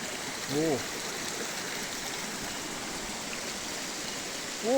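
A river stream flows steadily along a path near a waterfall, its continuous broadband rush filling the scene, with brief human vocal sounds near the start and end.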